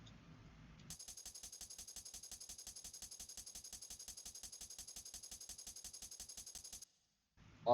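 Hi-hat drum loop for an ambient drum and bass track, a fast, even stream of bright metallic ticks running alone for about six seconds before cutting off abruptly.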